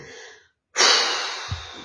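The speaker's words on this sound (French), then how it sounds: "vous allez souffler sur toutes vos pensées négatives" Forceful exhalation blowing out during a relaxation breathing exercise, a single long breathy whoosh starting loud after a brief silence and slowly tapering, with a faint preceding breath.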